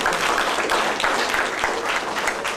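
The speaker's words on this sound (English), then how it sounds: "Can we please give Commissioner Moss another round of applause?" An audience at a conference opening session gives a round of applause for Commissioner Moss, a dense, steady wash of clapping from many hands with no pauses.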